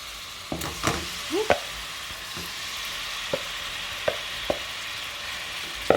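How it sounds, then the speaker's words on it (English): Beef browns in olive oil in a pot, giving a steady close sizzle broken by a few clinks and scrapes of stirring. "I'm just going to go ahead and add the meat directly into the pot"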